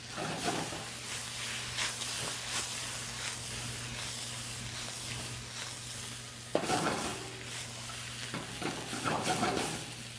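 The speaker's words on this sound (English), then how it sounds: "The whole key to stir frying and using woks is for a very quick cook and a very small amount of oil" Cabbage stir-frying in a wok with a small amount of oil, a steady close sizzle and hiss with scraping stir strokes throughout, and a sharp clank partway through.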